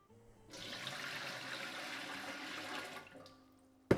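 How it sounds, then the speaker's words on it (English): A litre of water gushes steadily into a pot for about two and a half seconds, then cuts off, leaving a faint clunk at the end. "I'm going to chuck another litre of water in here"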